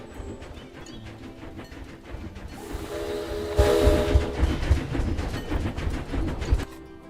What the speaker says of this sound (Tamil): குறுக்கால அந்த ட்ரெயின் போயிட்டு இருக்கு.